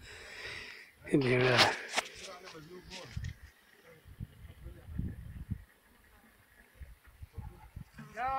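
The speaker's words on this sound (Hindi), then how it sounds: "बकरी है" Goats bleating at a hilly picnic camp of cloth tents in Saudi Arabia, with one loud, wavering bleat near the start and fainter animal sounds amid ongoing people talking.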